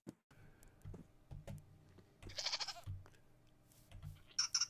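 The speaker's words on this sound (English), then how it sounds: "These are more goats." Several goats bleat in the TerraFirmaCraft Minecraft game, short nasal cries spread across a few seconds with quiet clicking and soft thuds between them.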